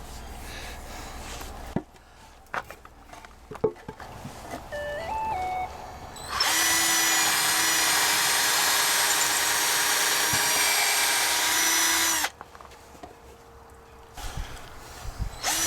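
Power drill driving a screw through wooden boards, a sharp high whine for about six seconds, sitting between quieter handling clatter and knocks.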